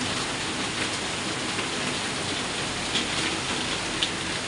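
Steady rain pours down outside, loud enough to flood the ground, a dense even hiss with a few sharper drop hits and no talk.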